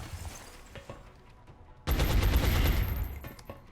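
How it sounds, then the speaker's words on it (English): Video-game gunfire from XCOM Enemy Within: after quiet ambient game sounds, a sudden loud sustained burst of automatic fire erupts and continues to the end. "maybe we can do some damage with Shoji here"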